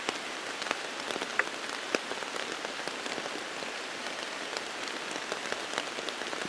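Steady rain falls through woodland on a hillside, a dense, even patter of drops on leaves and ground with occasional louder nearby drips, continuous and close throughout.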